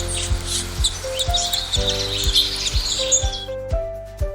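Sparrow chirps in a bright, busy cluster, with quick tweets layered over a steady low rhythmic thumping from another source.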